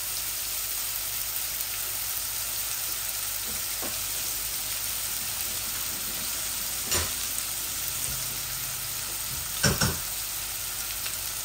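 Onions sizzle steadily in a hot pan for a Bengali leafy greens dish, a continuous crackling hiss with a few brief clatters from stirring and no talk.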